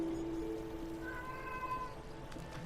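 A cat meows once in the middle of an Elder Scrolls Online player-home marketplace, a clear drawn-out call over a steady, quiet background of game ambience.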